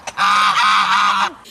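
A domestic goose on a farm gives a single loud, close, drawn-out honk lasting about a second, with no talk around it.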